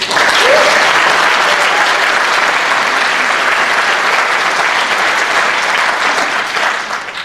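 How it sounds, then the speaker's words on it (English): An audience at the Game Connect 2011 conference applauds Tony and his team, a loud, close wash of clapping that stays full before tapering slightly at the end. "a quick round of applause for Tony and his team is warranted"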